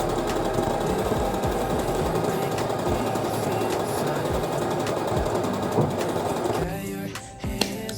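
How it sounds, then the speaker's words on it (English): A sewing machine stitches upcycled clothes with a rapid, loud, continuous clatter that stops near the end, followed by a few scattered knocks and handling sounds. "And now we're officially done with the first sewing."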